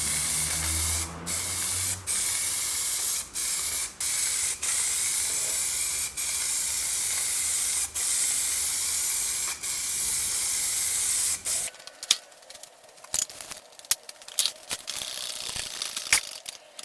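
Clear coat sprayed from a can onto cleaned car parts: a loud continuous close hiss with brief pauses for about eleven seconds, followed by quieter clicks and handling noises.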